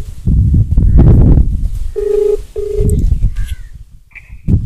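A phone on speakerphone dials out with two clear electronic tones in quick succession, followed by a brief higher beep, amid loud chatter from several people in the room.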